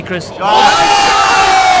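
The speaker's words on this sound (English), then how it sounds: "The crowd appreciates that rally." Crowd roaring and cheering at a Galway men's and ladies' senior singles softball handball All-Ireland match, swelling loudly after a brief commentator's voice and holding steady to the end.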